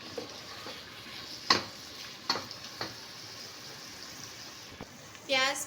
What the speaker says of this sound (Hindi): प्याज को हम पकाएंगे, गोल्डन ब्राउन नहीं करना,